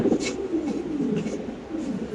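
Red Lahori fancy pigeons cooing at a pigeon farm, a few soft, low repeated coos close by over a gentle background hum.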